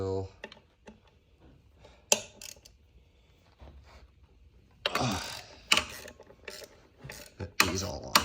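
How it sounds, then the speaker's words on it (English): A ratchet works hex bolts loose on a 1986 Chevrolet Corvette, a scatter of faint clicks and then louder bursts of rapid pawl clicking, close by, with some handling knocks between. "And then pop it right here onto our ratchet."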